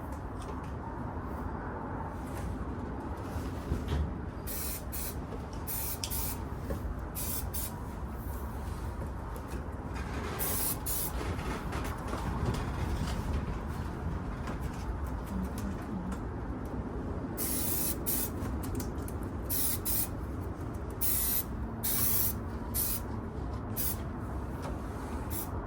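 Bursts of spray painting on parts of a 1968 Camaro, short hissing blasts repeated irregularly over a steady background hum, close by, with no talking.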